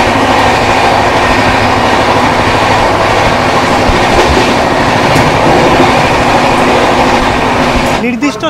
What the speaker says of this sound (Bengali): আর সাথে এইরকম ট্রেন জার্নি।